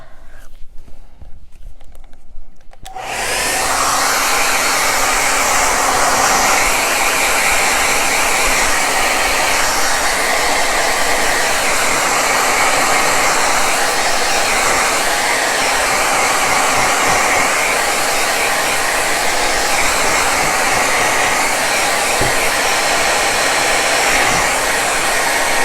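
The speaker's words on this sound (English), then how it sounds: "we are going to need to use the blow dryer again" A hair dryer drying paint on a painted LOVE sign switches on after a few seconds of quiet and then runs loud and steady, close by, with a constant whooshing roar to the end.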